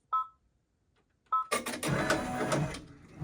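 An embroidery machine begins stitching a raw-edge bow appliqué test design: two short electronic beeps, then a steady, fairly loud mechanical whirring and tapping that runs on without speech.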